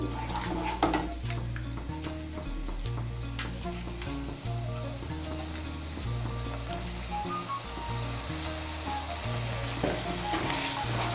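A spice paste with coriander powder and salt being fried and stirred in a pan for masala bhindi, a soft continuous sizzle with rhythmic spoon scrapes against the pan over a low steady hum.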